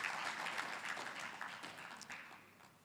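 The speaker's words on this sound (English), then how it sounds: "I think you should give her a round of applause" Audience applause at a diaspora convention, a thick crowd clapping that sounds fairly distant and gradually tapers over a few seconds.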